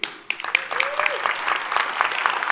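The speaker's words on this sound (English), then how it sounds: "in a show of applause, how many of you have heard of the TOC?" An audience at a technical conference keynote breaks into applause after a brief voice, the clapping building into a steady, moderately loud patter that carries on to the end.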